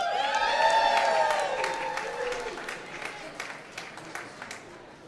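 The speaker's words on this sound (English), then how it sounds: "Ladies and gentlemen, round of applause for Esther Kostanowitz." Audience applause at a live presentation, a burst of clapping that is loudest at the start and thins out to scattered claps, heard from a distance.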